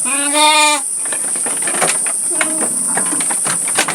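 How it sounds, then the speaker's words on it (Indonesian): A goat bleats once, loud and close, with a clear harmonic cry in a Sundanese village in West Java, followed by a steady hiss and scattered faint rustling and farmyard noises. "Banyak nih kambingnya."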